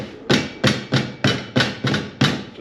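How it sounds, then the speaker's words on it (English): A rubber mallet pounds a fitting during a Torqeedo 1103 AC motor installation on an NRS Kuda 126 kayak, seven evenly spaced, sharp close blows in quick succession with no talk. "Nothing like a hammer, rubber mallet, pound it that way a little bit"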